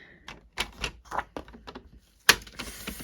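Paper is cut down to size with a rapid series of close, crisp snips and mechanical clicks, ending in a sharp louder chop, with no talking.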